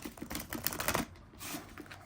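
A tarot card deck is side shuffled close up, soft rapid papery flicks and riffling ticks in two short runs separated by a brief pause, quiet and alone.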